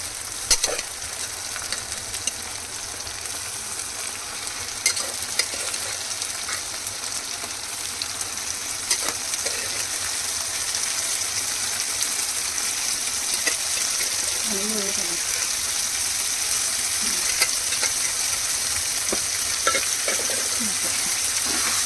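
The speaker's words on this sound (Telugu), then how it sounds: "ఇప్పుడు బోటి వేస్తున్నా నేను" Boti (tripe) curry frying in a pan, a steady loud sizzle with occasional stirring scrapes throughout, a voice briefly speaking over it.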